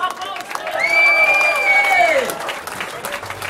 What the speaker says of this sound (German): Gebt ihm nochmal einen herzlichen Applaus!